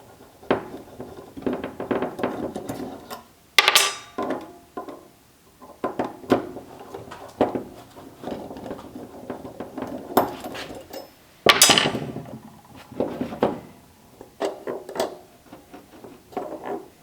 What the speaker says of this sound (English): So I'll pop these screws out and then see what it looks like on the inside.